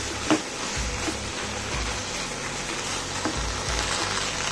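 Cauliflower fry sizzles steadily in a pan, with a few soft scraping stirs rising out of the continuous hiss; no one speaks.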